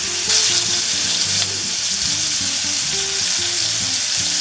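Steady, crackling sizzle of meat frying in a hot pan, close and continuous, with occasional clinks and scraping of stirring underneath.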